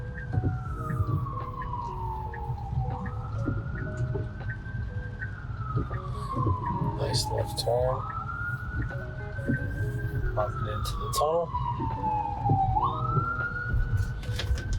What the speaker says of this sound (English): there's an ambulance behind us that just passed